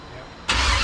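A forgotten 1971 Chevelle, long unused and primed with sprayed fuel, cranks and fires suddenly halfway through, jumping from a quiet lull into a loud, close engine roar; a voice is faintly present.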